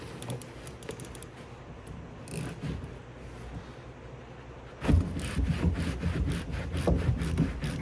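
A 5mm hex key and 14mm wrench work the top of a rear shock on a 2015-2020 Honda Fit, with close metallic ticks, ratchety clicks and scraping that grow busier and louder midway.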